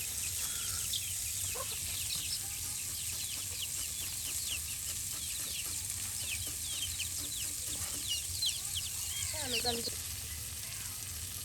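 Pangas fish fries in a pan during outdoor village cooking beside a wetland: a steady, even sizzle runs throughout, with faint bird or chicken sounds in the background.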